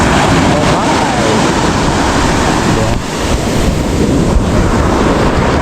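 Waves surge and break along a seaside shoreline, a steady broadband wash mixed with wind buffeting the microphone, loud and continuous throughout with no pause.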